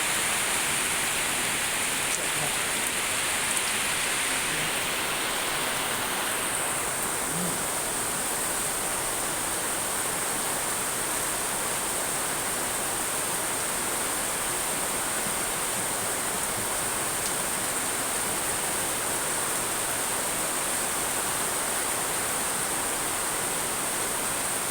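A sudden heavy downpour in La Trinidad makes a constant, dense roar of rain, steady and close throughout with a slight shift early on, and no speech.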